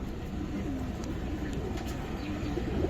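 Giribaz and coloring pigeons coo softly and low, several gentle throaty calls rolling over a steady background hum with no talking.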